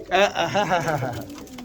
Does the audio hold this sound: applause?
no